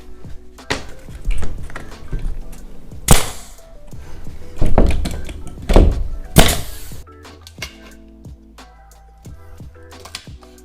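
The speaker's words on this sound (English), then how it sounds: "Start nailing." Hammer blows driving nails into cedar boards while building a studio, a series of sharp, loud impacts with clustered strikes near the middle, then lighter knocks and tapping toward the end.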